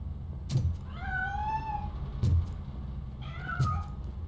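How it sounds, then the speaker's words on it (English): A cat meows in a video game, giving three drawn-out, wavering meows spaced across a few seconds over a low background rumble, with no talk. "That cat must be hiding inside."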